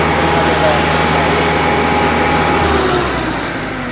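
A tractor diesel engine runs loud and close with a steady rumbling drone, easing off slightly toward the end.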